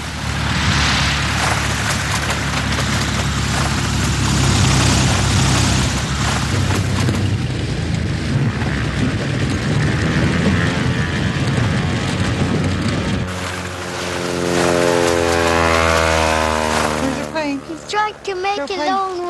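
A small ski-equipped plane lands on snow in Alaska. Its engine and the wind make a loud, steady roar with heavy booming rumble, and a rising propeller drone comes near the end while voices speak.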